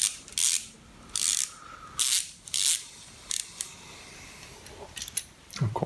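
A ratchet wrench loosening a bolt while a Suzuki GSX-R 750 SRAD engine is dismantled, giving several loud bursts of rapid clicking pawl ratcheting, close up, separated by short pauses and small metallic taps.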